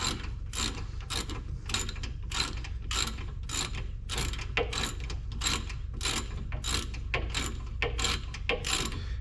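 Rapid ratchet clicking as a socket wrench tightens a rear brake bolt on a GMC Acadia, steady repeated clicks in quick rhythm, close and fairly loud throughout with no talking.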